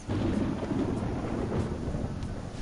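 Thunder rumbles low and heavy through steady rainfall in Persona 5 Royal, a continuous rolling storm that stays loud and close for the whole stretch with no voices.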